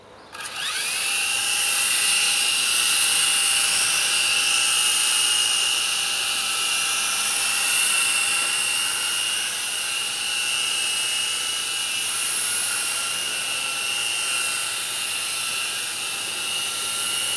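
An Alloy Shark S006 toy helicopter flies close by with a loud, steady high-pitched rotor whine that spins up at the start and holds for the rest of the flight.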